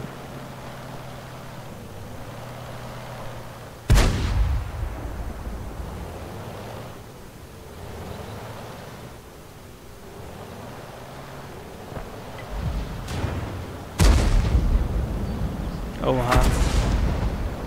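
Cannon fire from a Panzer IV tank in a video game, heard as three heavy booming shots spaced seconds apart over a low rumbling background, with a short exclamation spoken.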